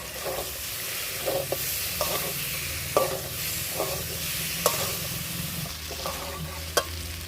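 Prawns coated in turmeric and chilli powder fry in a pan for doi chingri, a steady close sizzle running throughout with repeated sharp scrapes and clacks of a spoon stirring at irregular intervals.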